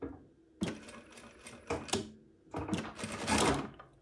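A JUKI DDL-900C industrial sewing machine finishes a seam in two close, loud bursts of rapid mechanical stitching, separated by a short pause with a soft clack.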